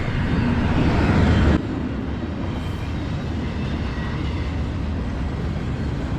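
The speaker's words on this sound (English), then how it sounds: "Gotta love an early morning train." A loud, steady rumble of a freight train rolling past in the early morning, with a heavy low roar that drops slightly partway through and continues without pause.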